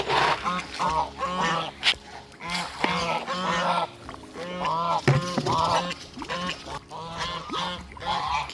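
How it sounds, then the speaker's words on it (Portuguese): Several geese honking loudly and repeatedly close by, harsh overlapping calls in irregular bursts with short gaps between them. "Os gansos fazendo barulho."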